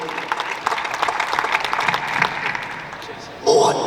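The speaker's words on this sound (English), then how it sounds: "Yeah, let's have a round of applause." An audience at a live MMA fighter Q&A gives a round of applause, dense rolling clapping with crowd noise that tapers off, then a voice comes in near the end.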